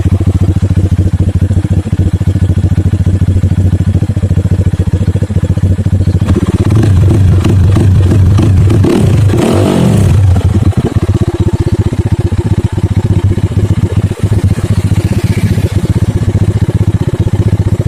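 A Rusi Sigma 250 motorcycle with battery and charging trouble runs close by, a steady loud rough idle with clattering that swells as the throttle is opened in the middle, then settles back to an uneven idle.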